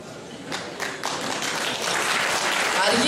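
An audience at a village association pie-cutting event in Rafti, Arcadia, breaks into applause that starts in scattered claps and swells into dense, loud clapping.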